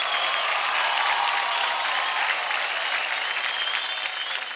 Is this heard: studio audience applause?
yes